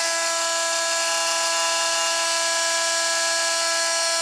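A Milwaukee M12 Fuel cordless oscillating multi-tool with a tightened blade runs steadily on its own, giving a loud, constant high-pitched buzzing whine with no change in speed throughout.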